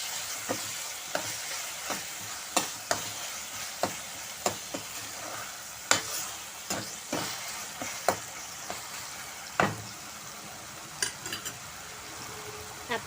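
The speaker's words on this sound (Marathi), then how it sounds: "15-20 सेकंद त्याला व्यवस्थित परतून घ्यायचं." An okra curry tempering with sugar and asafoetida sautéed in a pan, a steady gentle sizzle broken by regular sharp taps and scrapes of the spoon against the pan.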